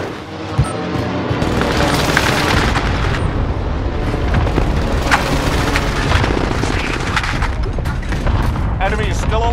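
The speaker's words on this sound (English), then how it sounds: "I want the airstrike here. This is Phoenix 3. Strike inbound." Heavy airstrike explosions in a military shooter game, a continuous dense barrage of booms and blasts with helicopter-like rumble, loud and sustained throughout, with voices talking over the chaos.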